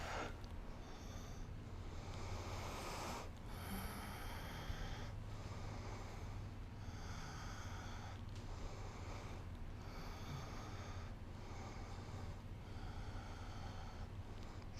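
Slow, steady breaths during a yoga exercise, with repeated airy exhales and inhales that come with a soft snorting rasp and stay close and even in loudness throughout, alone with no talk.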